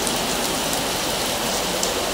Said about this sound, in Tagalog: Sobrang lakas ng ulan oh.